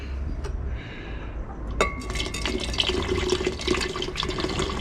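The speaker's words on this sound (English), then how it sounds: "pour some nitric acid in there." Nitric acid poured from a container into a beaker of distilled water, a steady liquid trickle with faint glassy clinks starting about two seconds in and running to the end, close and moderately quiet.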